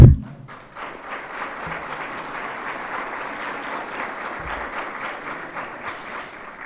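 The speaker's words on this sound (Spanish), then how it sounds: "Yo creo que podemos darnos un fortísimo aplauso" Audience applause at a university ceremony presenting a national entrepreneurship report, opening with a brief thump before steady, full clapping from a sizable crowd that holds evenly for several seconds.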